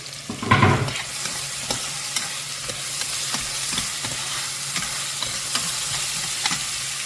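Small onions frying in a pan for a peppery crab curry give a steady close sizzle, with a loud burst of stirring near the start and light scraping clicks recurring throughout, no voices.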